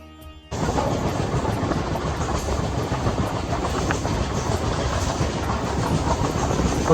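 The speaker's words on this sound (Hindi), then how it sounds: "हमारी जो ट्रेन है वो सीधा कटरा जा रही है" A passenger train bound for Katra via Udhampur rumbles steadily on its way, with a continuous clattering roll of wheels and carriage noise that starts abruptly and stays loud throughout, with no voices.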